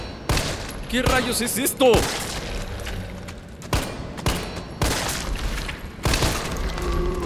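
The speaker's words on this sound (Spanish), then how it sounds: "Trato de dispararle en la cabeza, pero la precisión de esta arma no se cierra tan rápido." Repeated weapon shots in Resident Evil 3 come as loud, spaced bangs, about seven across the stretch, with a voice speaking briefly between the early shots.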